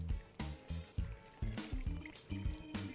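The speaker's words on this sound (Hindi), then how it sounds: "कढ़ाई में 1 लीटर पानी डाल दे रहा हूँ" Water poured into a kadhai (wok) for making sugar syrup for rasgulla splashes and trickles in uneven bursts, close and fairly quiet, with no talking.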